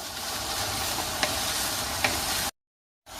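Minced meat frying in a pan with a steady loud sizzle, stirred a couple of times with faint scrapes, then a brief silence before the sizzling resumes.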